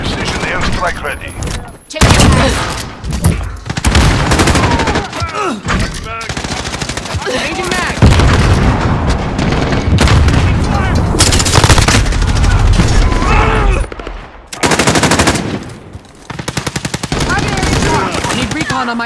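Video game combat with dense, continuous bursts of automatic gunfire and heavy booming explosions, loud and close, with brief pauses; a voice speaks over parts of it.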